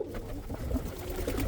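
Chinese owl pigeons coo at a nest box, a pair making low, rolling, repeated coos close by, overlapping one another steadily throughout with no talking.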